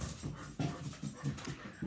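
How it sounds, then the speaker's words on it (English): A young puppy pants steadily indoors with a rhythmic, close breathing pattern, punctuated by soft scuffles and thumps as she moves around the room with a toy; no one speaks. "That's the puppy, who last time I videoed I could pick up and show you."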